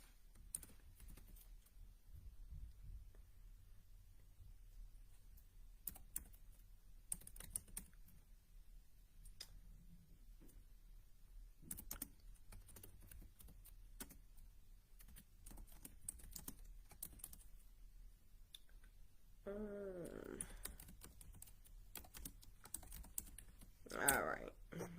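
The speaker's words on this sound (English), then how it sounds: "I'm going to actually type this in the chat" Scattered taps on a computer keyboard while typing into a chat, faint and irregular over a quiet room, with a voice speaking briefly near the end.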